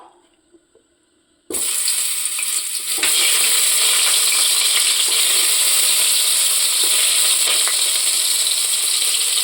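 Onions hit hot ghee and oil in a pan for chicken biryani. After a quiet start, a sudden loud, steady sizzle bursts out and holds, with brief scraping bumps along the way.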